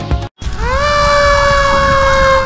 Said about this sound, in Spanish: camión de bomberos llega a Huánuco, en camino para salvar vidas